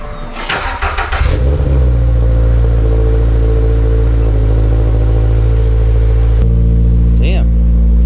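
A Subaru BRZ engine cranks and fires up loudly after sitting unused for over a week, then settles into a steady, rumbling idle with a brief blip of revs near the end; a voice is heard over the start.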